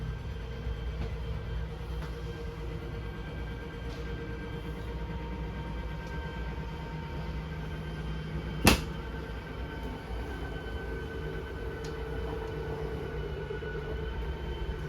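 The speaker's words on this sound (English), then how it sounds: "press and hold out and the slide will make its way out" A 2022 Surveyor 296QBLE RV's slide-out motor drones with a steady low mechanical hum as the room extends, with one brief sharp click partway through.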